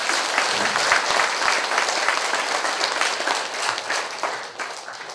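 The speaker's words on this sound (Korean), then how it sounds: "다시 우리 직원들 더 잘해달라고 박수 한번 쳐주세요." Sustained audience applause at a welfare center gathering, a dense, steady wash of many hands clapping together for several seconds with no talk over it.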